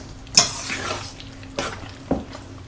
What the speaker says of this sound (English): Make sure you're scraping the bottom and sides as you stir.